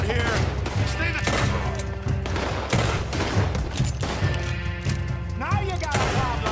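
Dense gunfire from a Red Dead Redemption 2 shootout, with rapid overlapping shots and booming blasts going on without a break, loud and close, along with shouted voices and game music.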